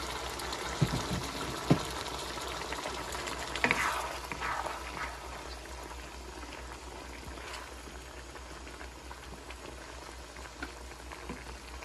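Broth simmers and bubbles steadily in a pan of milkfish with black beans, with a brief splash of poured liquid early on before a continuous boiling hiss.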